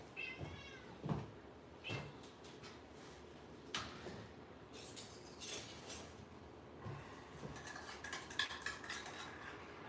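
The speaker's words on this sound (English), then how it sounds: "let me feed this kitty cat" A pet cat meows faintly a few times at feeding time, mixed with light clinks of dishes and cutlery and the thump of a cupboard in a quiet room.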